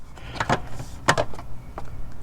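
Plastic clips of a pickup's door seal popping free, a few sharp snapping bursts with short gaps between them, close up and fairly loud, with no talk.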